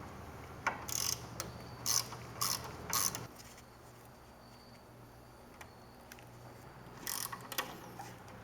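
A ratchet removes T25 bolts from the arm of a power running board on a Yukon/Tahoe, with several short bursts of rapid clicking close by, separated by quiet pauses.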